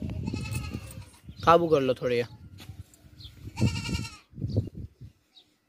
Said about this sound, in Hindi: 4 दांत बकरी है, बीतल बकरी है, बच्चे वाली।